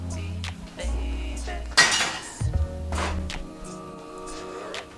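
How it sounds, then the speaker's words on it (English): A wok is rinsed and wiped in a kitchen sink, with running water, scraping and a few sharp metallic clanks of the pan against the basin, fairly quiet and close. "Now we can rinse off our wok, give it one more wipe down"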